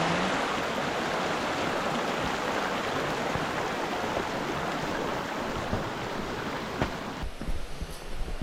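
A mountain creek in the Colorado elk country rushes steadily in a constant broadband wash, close and fairly loud, with no voices over it.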